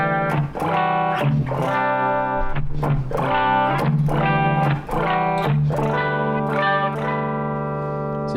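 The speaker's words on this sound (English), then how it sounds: "It's a good crunch sound" An electric guitar played through the crunch channel of a Boss ME-80 preamp: a run of ringing, lightly distorted chords struck in a loose rhythm, each sustaining with a brief dip between strums, loud and alone.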